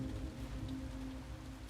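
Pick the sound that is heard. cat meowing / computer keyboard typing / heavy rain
heavy rain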